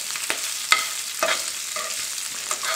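Kale cooking in oil in a pan is flipped around with a metal spoon, giving a steady sizzle broken by several sharp scraping clinks of the spoon against the pan, close with no voices.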